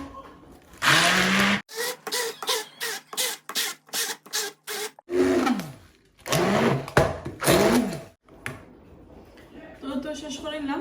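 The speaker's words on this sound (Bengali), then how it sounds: "এখন আমি ওগুলা ব্লেন্ডার করিলাই।" Electric blender grinding a pumpkin leaf batter with green chillies, running in loud bursts separated by short pauses and stutters as the jar is pulsed, close to the microphone.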